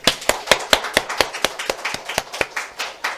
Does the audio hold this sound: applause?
yes